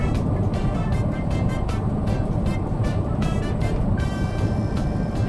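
A car cruises along a highway in Kawasaki, Japan, a steady broadband road roar and engine drone heard from inside the car, with no speech.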